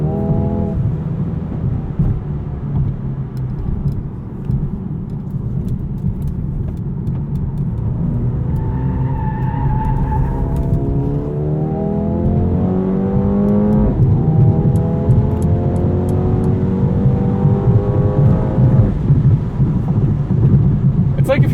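A 2020 Mercedes-AMG A35 engine in Sport Plus mode revs and pulls hard, its pitch climbing through gears, loud and sustained, with a person talking over it.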